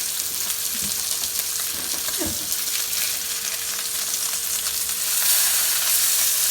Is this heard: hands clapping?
no